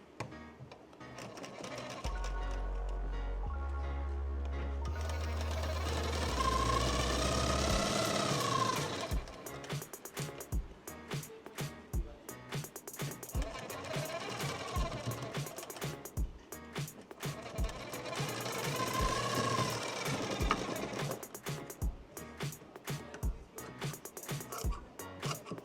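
Sewing machine stitching the seams of a princess cut blouse, a steady close mechanical whir that runs in long continuous bursts, slowing and restarting between stretches, with a faint low hum underneath.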